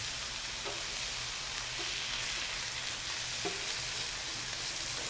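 Smash burgers sizzle on a Royal Gourmet portable griddle in a constant loud hiss, with a couple of soft spatula scrapes as the patties are scooped and flipped; no voices.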